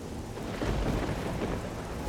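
Rain pours steadily in the Oblivion video game with a low rumble of thunder swelling midway, a continuous wet hiss filling the scene with no talking.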